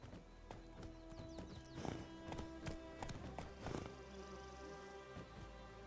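Hooves of Roach, the horse in The Witcher 3 video game, clip-clop in a steady, fairly close rhythm, mixed with sustained background tones and a few sharper thumps.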